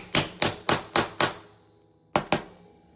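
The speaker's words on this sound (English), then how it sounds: "then you're gonna hammer it again" Sharp hammer blows strike a metal eyelet setter to set an eyelet: five evenly spaced, loud close impacts, a pause, then two more quick strikes, with no talking.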